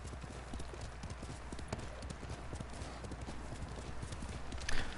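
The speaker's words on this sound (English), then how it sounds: "You're a good horse, Nobu." Horse hooves clip-clop steadily and close in Ghost of Tsushima, a dense, continuous patter of footfalls over ambient game noise.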